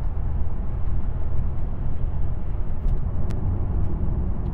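A BMW 840d Coupe cruising at about 120 km/h, giving a steady, dense low road and engine rumble from inside the cabin with a few faint ticks, unbroken for the whole stretch.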